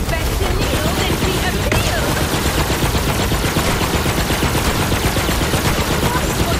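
Sustained, dense gunfire in Borderlands 3, a loud continuous rattle of rapid shots blended with battle noise and faint shouting.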